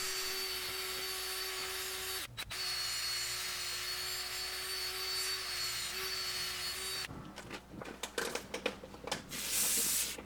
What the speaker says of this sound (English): I'm just using a wire brush with a drill.